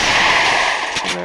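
Gunfire in a shooting video game landing a headshot, a loud dense burst of shots filling the clip, ending in a short sharp crack and a brief tone.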